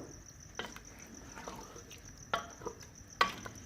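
Yogurt being stirred into beef in a pan over a low flame, faint scraping and soft clinks of a spoon against the pan at irregular intervals under a quiet background hiss.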